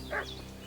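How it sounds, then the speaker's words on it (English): A dog in the video game Kingdom Come Deliverance 2 gives a single short bark, brief and somewhat distant over a steady game background. "What's that dog making such a fuss about?"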